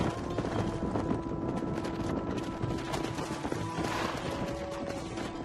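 Horse hooves clopping at a steady pace in Red Dead Redemption, a quick rhythmic run under ambient game noise and distant scattered sounds, with no talk.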